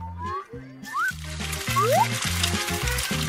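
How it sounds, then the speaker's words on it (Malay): Spiral potato chips frying in a deep fryer give a steady, close sizzle and hiss, starting partway in and continuing throughout, beneath a background music bed with rhythmic bass. "Encik akan masak spiral dalam penggoreng rendam."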